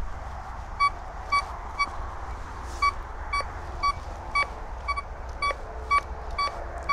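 A Golden Mask Coin Killer metal detector with a Spider 9-inch coil sounds a repeated short electronic beep over a buried German helmet, regular pips against steady outdoor hiss, fairly faint and without talk.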